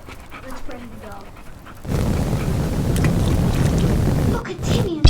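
A dog pants rapidly and steadily close by, outdoors near water with wind buffeting the microphone, while people talk over it.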